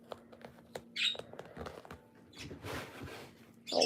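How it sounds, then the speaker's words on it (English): A pet bird squawks in a room where someone is working with duct tape on a fursuit. The brief, shrill squawks come in short bursts over soft rustling and tapping, and the bird sounds moderately close. "My bird is being obnoxious."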